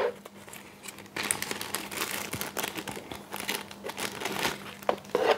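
A small plastic bag holding paint masks for a Zvezda Be-200 scale model kit crinkles and rustles as it is handled close up, in irregular bursts of crackling.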